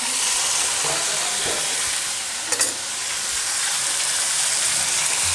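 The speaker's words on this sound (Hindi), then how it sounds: "अब जो है चिकन हमारा, इसको हमने भूनना है" Chicken for shami kabab fries in a pan with a steady, close sizzle and hiss throughout. One brief sharp clink of utensils sounds midway, and no one talks.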